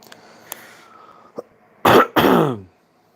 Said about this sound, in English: Dang cough.